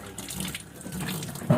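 Tap water running into a sink while fish is washed, a steady close splashing flow with a brief louder burst at the end, no talk.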